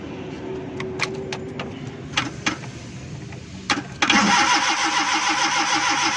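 A Suzuki Ravi petrol and CNG vehicle engine cranks on a morning start with a steady mechanical churn after a few sharp clicks, but never catches and settles into running.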